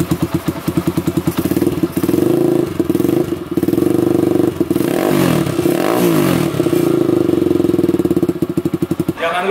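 A Yamaha Scorpio SX225 scrambler engine idles with a fast, rattling pulse, then revs up and holds a loud, steady roar before dropping back to a chugging idle.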